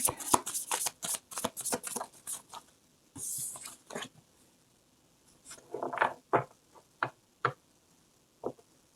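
Tarot cards being shuffled and drawn: a run of crisp riffles and flicks early on, then a pause and a few separate snaps and taps as single cards are pulled, quiet and close.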